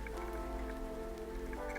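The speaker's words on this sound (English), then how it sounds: "When the sun finally rises, the rain still lingers" Steady rain falls and patters on a surface, a continuous close wash of drops with no voices.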